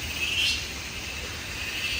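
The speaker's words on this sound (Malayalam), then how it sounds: "ചീവീടും തവളയും നമുക്ക് ബാക്ക്ഗ്രൗണ്ടിൽ അവരുടെ സൗണ്ട് കേൾക്കുന്നുണ്ടാവും" Crickets call in a rainy garden as a thin, steady, high-pitched drone that holds constant and fairly faint across the moment, with no other distinct sounds over it.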